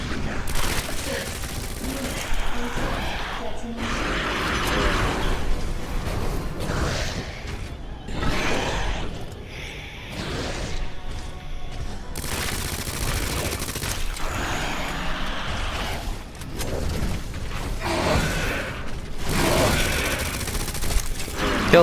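Gatling gun fire at a boss in the Resident Evil 2 Remake video game, dense bursts of rapid shots and booms with whooshing action effects, loud and continuous throughout.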